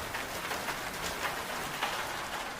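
Steady rain falls on a March night outside a rural clinic, a dense, even hiss of drops with no voices over it.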